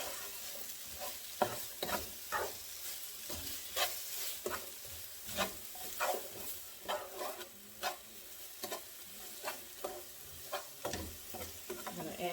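Brown sugar and onions cooking down in a pan beside seared pork chops, giving a soft steady sizzle with regular scrapes and stirs of a utensil, fairly quiet and close, with no talking.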